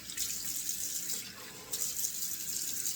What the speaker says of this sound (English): So let's run some cold water here